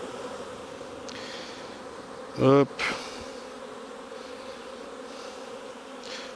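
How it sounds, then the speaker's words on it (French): Honeybees buzz around an open beehive at the end of the day, a steady low hum throughout, with a brief voice cutting in near the middle. "Il y a beaucoup de vieilles abeilles aussi qui sont un peu guerrières."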